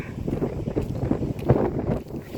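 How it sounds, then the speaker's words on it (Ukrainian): Steady wind buffeting against the microphone, a low rumbling roar with gusty swells throughout and no voices. "вітер зірвався, задубав"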